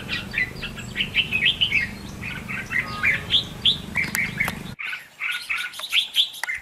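Red-whiskered bulbul singing near a bird trap, a run of bright, rapid chirping phrases repeating throughout, fairly close and loud over a low background rumble that drops out near the end while the calls continue.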